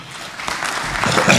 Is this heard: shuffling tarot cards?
no